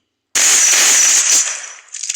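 A single loud, sharp Desert Eagle pistol shot from the Free Fire video game bursts in abruptly after a brief silence, then a crackling tail fades away, with no voices over it.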